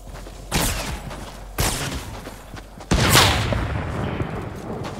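Video game gunfire in three loud bursts of rapid shots, each trailing into a noisy wash, close and dominant, with no talk.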